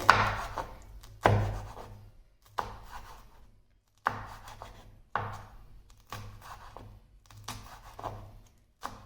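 Radish leaves being finely chopped with a knife on a board for pakoras, a steady series of sharp, close thunks at a relaxed rhythm, with no talking.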